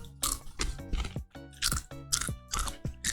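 Ketchup-flavored Lay's potato chips crunched close to the mic, a run of about eight sharp crisp bites and chews in an uneven rhythm.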